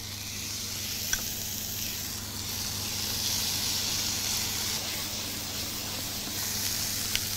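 Crêpes and orange segments sizzle softly in a Teflon pan for crêpes Suzette, a steady low hiss and frying crackle that carries on evenly throughout with no talking.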